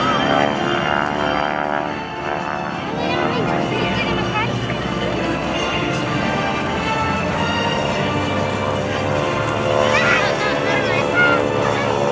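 GEICO Skytypers propeller aircraft fly a pass at the 2012 Rhode Island Air National Guard open house airshow, giving a loud, steady engine drone that fills the whole stretch, with a voice heard over it.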